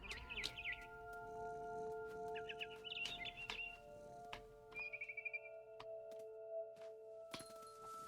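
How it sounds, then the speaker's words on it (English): A barn swallow chirps in several quick twittering bursts over a steady hum of game background music in What Remains of Edith Finch, the calls moderately close and brief, with no talking. "Then I heard chirping outside my window. It was a barn swallow going back to her nest."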